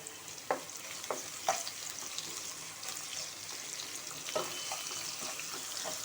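Eggplant masala curry with green chillies frying in a pan, a steady close sizzle with a few sharp clicks of stirring scattered through, no talk.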